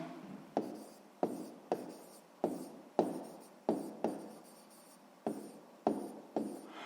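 Pen strokes scratch out a math answer on paper, about a dozen sharp, close taps and short scrapes in an irregular rhythm, with no talking.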